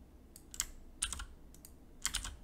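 Key clicks from someone typing a six-digit number on a computer keyboard, in several quick bursts of taps with short pauses between them, close and fairly quiet.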